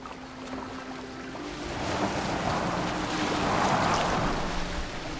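Boat gliding across open water in Assassin's Creed Valhalla, a steady broadband wash of waves and hull splash with wind, swelling slightly midway and holding continuously without speech.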